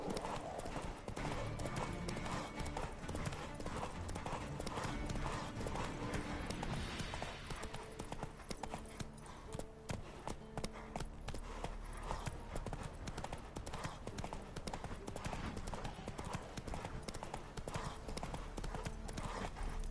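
Roach, a horse in The Witcher 3, clip-clops along with steady rhythmic hoofbeats under game music and ambience, faint and continuous throughout.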